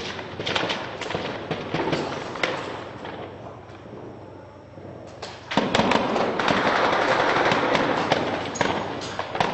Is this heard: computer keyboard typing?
no